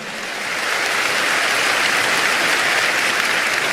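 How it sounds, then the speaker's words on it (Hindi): Audience applause at a Jain Janma Kalyanak celebration in Songadh, a dense wash of many hands clapping that swells in the first half-second and then holds steady and loud throughout, with no voices over it. "वाह, इस बोल के लिए तो आपकी तालियां कमजोर पड़ रही हैं।"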